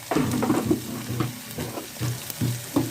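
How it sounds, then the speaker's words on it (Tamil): Ginger garlic paste sizzles in a pan with sautéed onions for Chettinad mutton gravy, a steady close frying hiss broken by repeated stirring scrapes, with no talking. "இஞ்சி பூண்டு பேஸ்ட்டு போட்டுக்கலாம்."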